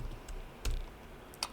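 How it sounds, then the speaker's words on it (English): Typing on a computer keyboard, with a few sparse, fairly faint key clicks spaced apart and no talking. "I'm not gonna be typing so fast"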